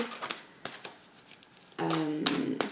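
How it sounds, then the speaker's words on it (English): Tarot cards being shuffled by hand, with soft riffling and tapping bursts that grow denser and louder near the end, partly overlapping speech. "If you don't like the shuffling, please scroll ahead."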